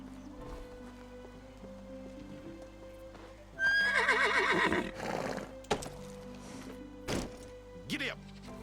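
A horse in the video game Medieval Dynasty lets out a loud, close whinny over background game music, followed by a few hoof clip-clops and knocks.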